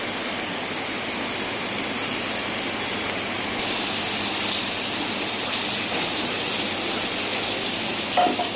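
Heavy, continuous rain pours down in Mussoorie, a steady dense hiss that thickens partway through and stays loud and even, with no voices.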